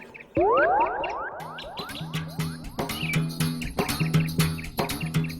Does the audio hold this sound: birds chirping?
yes